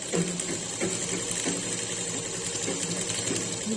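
Sewing machine stitching fabric for a baby dress, its motor running in a steady continuous whir with a faint rhythmic pulse throughout, close and fairly loud, with no talking.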